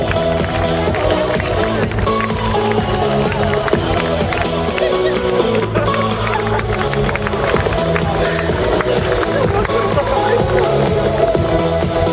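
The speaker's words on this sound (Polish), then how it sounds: "Gorące brawa, drodzy Państwo!" At a football club's kit presentation, a crowd applauds the models showing the new strips: continuous loud clapping and crowd noise blended with music and background babble, running steadily throughout.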